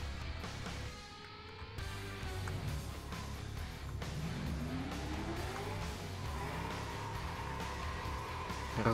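Engine revving and rising in pitch as a car accelerates in the racing game FlatOut: Ultimate Carnage, a steady loud drone with climbing harmonics and some tire noise, no talking.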